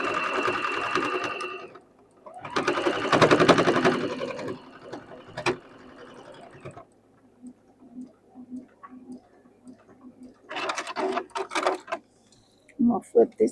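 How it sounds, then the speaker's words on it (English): Domestic sewing machine stitching two fabric pieces right sides together with a quarter-inch seam, heard as loud bursts of rapid stitching separated by pauses, with handling noise and quiet clicks between runs. "make sure they're pretty sides together and stitch them 1/4 of an inch"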